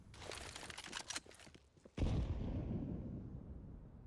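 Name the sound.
grenade explosion in video game Counter-Strike, Overpass map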